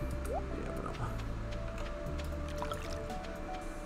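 Water sloshing and squishing into a watering can as it is refilled in the farming game Stardew Valley, a short wet liquid sound over steady background game music.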